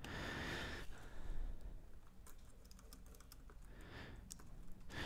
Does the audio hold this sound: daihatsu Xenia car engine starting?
no